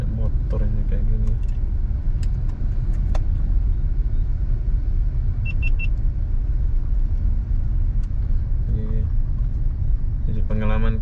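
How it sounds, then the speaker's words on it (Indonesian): Dense road traffic on Batu Aji road in Batam, clogged by many motorbikes in a jam, with constant engine rumble and idling close by and a brief horn-like tone, while people talk over it. "banyak motor yang ini yang buat macet nih"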